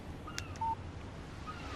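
Short electronic phone alert tone announcing an incoming text message in the video game Alan Wake, a brief bright beep sounding alone over a low steady background hum.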